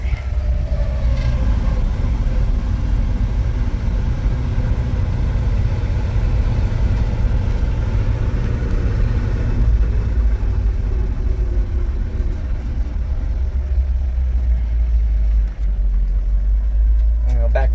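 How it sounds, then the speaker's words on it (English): A 1969 Chevy C50 fire truck engine rumbles loudly and steadily up close, its deep drone running continuously with a slight shift in tone as the gears change down. "Go ahead and downshift."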